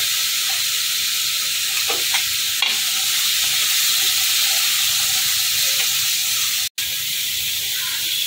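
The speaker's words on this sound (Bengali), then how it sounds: "এখন আমি ভেজে রাখা আলু আর পটলটা এর মধ্যে অ্যাড করে দেবো। এই কষাতে কষাতে এগুলো সেদ্ধ হয়ে যাবে।" Masala being sautéed in a pan with fried potatoes and pointed gourd for a bhetki fish kalia gives a loud, continuous close sizzle, with a few soft stirring scrapes and a brief break near the end.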